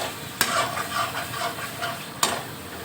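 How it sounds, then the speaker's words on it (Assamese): Spices such as cumin, black pepper, chilli and garam masala frying with onion in a pan for home-made chicken curry, a constant sizzle with stirring scrapes and two sharp clacks of the utensil, close and without talk. "এইটো অকণমান টাইম ভাজিব লাগিব আকৌ পিঁয়াজৰ নিচিনাকৈ"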